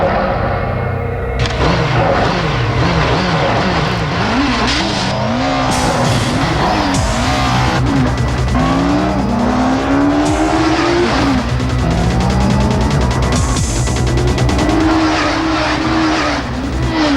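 A 1998 Honda CBR 900RR racing motorcycle at a World Superbike race at Kyalami howls loudly and continuously, its engine note rising and falling through repeated gear changes as bikes sweep past, with crowd and track noise beneath.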